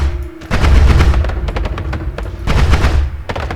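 Sniper gunfire in the video game Noita: a dense run of sharp, loud game gun bursts in two clusters, rapid cracks and booms layered over a rumbling low background, no talk.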